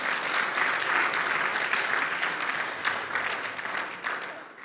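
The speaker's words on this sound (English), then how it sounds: "you deserve a big applause for yourselves." Sustained applause from a conference audience, a dense steady patter of many hands clapping at once, loud and continuous throughout.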